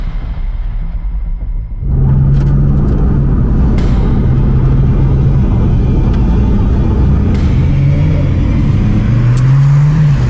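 A BMW M3 E92 with an Akrapovic exhaust and Eventuri intake idles quietly, then fires into a loud, deep engine roar that holds and climbs through rising revs with rumbling exhaust, heard up close.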